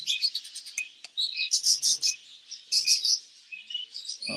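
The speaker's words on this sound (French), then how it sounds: "vous voulez voir quelques oiseaux?" Parakeets in an aviary chirp and tweet in quick, bright bursts, several birds calling over one another in clustered volleys with short pauses, fairly close and lively.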